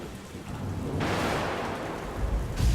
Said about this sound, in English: Thunder struck and the mountains crumbled.